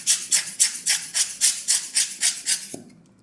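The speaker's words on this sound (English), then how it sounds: "I just need to use the blower and I'll just flip it upside down and I will just blow all the" A handheld air blower puffs dust off a Canon EF 85mm f/1.8 USM camera lens in about ten quick, even, breathy squeezes. A small knock follows the last puff.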